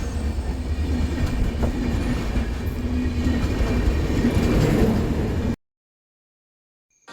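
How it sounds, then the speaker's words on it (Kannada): A train rumbles past close by in a loud, steady roar with faint wheel clatter for about five seconds, then cuts off abruptly into silence. "ಕ್ಲಾಸ್ ಮುಗಿದ್ಮೇಲೆ ಟ್ರೈನ್ ಬರ್ತಿತ್ತು"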